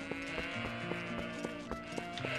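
Goats bleating in a stable in Zelda Twilight Princess. Short animal calls repeat steadily over a tonal game music bed, fairly close and clear.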